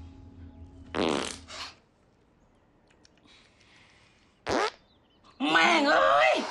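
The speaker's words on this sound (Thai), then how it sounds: "โดนตดขนาดนี้อาบน้ำแม่งเลยดีกว่า" Loud comic fart noises in a Thai ghost comedy set at a fine arts college: a long buzzing blast, a short sharp one, then a drawn-out rasp mixed with a voice.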